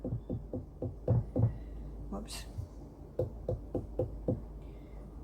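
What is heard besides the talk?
knocking on a ripe watermelon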